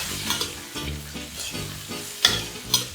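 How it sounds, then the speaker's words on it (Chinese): Dried chilies and three-colour bell peppers stir-fried in a wok with napa cabbage: a steady crackling sizzle broken by rhythmic scraping tosses, with two sharper metallic knocks near the end. "炒香后放入三色灯笼椒炒一炒"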